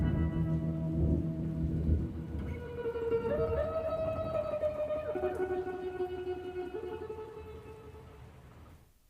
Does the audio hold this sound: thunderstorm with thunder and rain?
yes